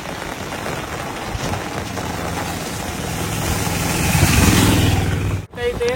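Heavy early-morning rain driven by strong wind over Mahadevapatnam pours down in a loud, dense, steady hiss that swells toward the end before a sudden brief cutout.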